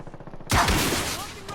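A sudden loud blast of rifle and RPG rocket fire in a video game, erupting after a faint stretch and decaying over about a second.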